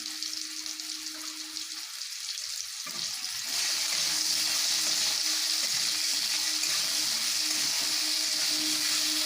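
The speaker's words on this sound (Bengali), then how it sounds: "আলুগুলোকে লাল লাল করে ভাজতে হবে" Potatoes with turmeric and salt fry in oil in a pan, a quiet sizzle that swells into a loud, dense, steady crackle partway through, with no talking.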